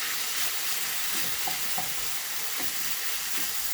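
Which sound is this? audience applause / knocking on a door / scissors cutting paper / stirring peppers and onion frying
stirring peppers and onion frying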